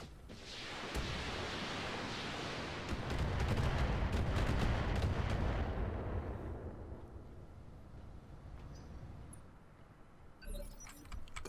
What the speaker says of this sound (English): That was a Gauss rifle.